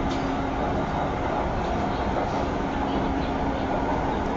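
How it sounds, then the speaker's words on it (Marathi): A Pune metro train running into an underground tunnel toward Civil Court station makes a steady, loud rumble with a constant hum and faint rail clatter, heard from inside the carriage and unbroken throughout. "तर मेट्रो ही जमिनीच्या भूगर्भात जात आहे।"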